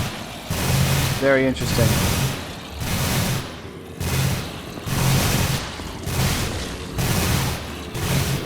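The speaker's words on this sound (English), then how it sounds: "It's firing at a specific enemy until it dies." A customizable turret in the Techguns video game mod fires at an enemy in regular booming bursts about once a second, each blast a broad rumbling thud, while a person briefly speaks.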